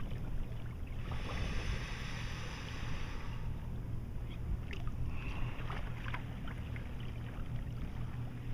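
A kayak paddle dips and pulls through open water on a long-distance trip, soft splashes and swishes over a steady wash of wind and water noise.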